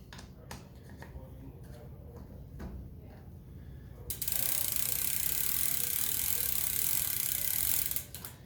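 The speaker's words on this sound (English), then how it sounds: "I'm going to take my 8mm Allen wrench," An 8mm Allen wrench turns the crank arm bolt on a Surly bicycle, making a quick run of clicking ratchet-like ticks, then a steady louder hiss of mechanical noise up close.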